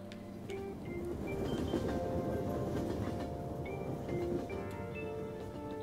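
Steady rumble and rattle of a train ride in Persona 5, the rolling carriage noise running continuously at low level with faint soft tones over it and no one talking.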